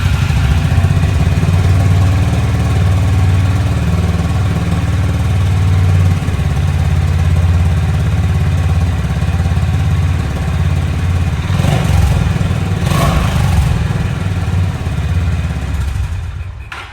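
A Honda H'ness motorcycle idles in a basement, its engine thumping in a steady low rumble with a slight rhythmic pulse, loud and close, with a couple of brief clattering knocks near the end.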